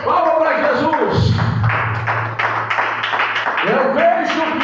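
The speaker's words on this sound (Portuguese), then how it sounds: "Palmas para Jesus." A church congregation claps their hands together in a quick, loud, steady rhythm that runs all through the clip, with a low sustained tone and voices mixed in underneath.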